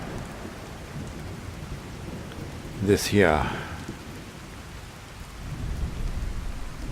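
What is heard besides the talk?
heavy rain downpour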